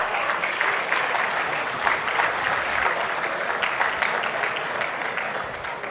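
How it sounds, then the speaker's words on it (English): A large audience at an awards event gives warm applause for sponsors, a thick, continuous roll of clapping at steady volume lasting several seconds with no speech. "Let's give them a round of applause."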